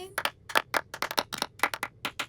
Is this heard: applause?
yes